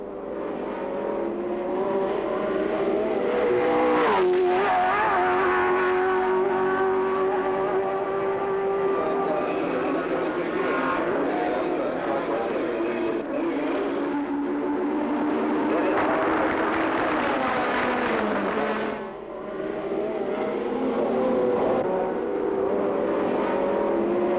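1967 German Grand Prix Formula One race cars, including a Repco Brabham and a Ferrari, howling down the straight on the final lap, engines rising and falling in pitch as they pass, loud and continuous with a brief dip.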